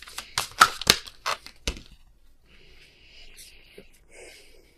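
Tarot cards shuffled by hand in a few quick, close riffling bursts, then soft slides and faint rustles as the deck settles.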